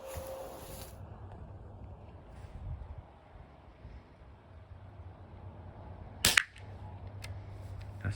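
Outdoor target shooting produces one sharp, loud gunshot crack with a short echo, followed by a fainter pop, over steady wind noise and a low background hum.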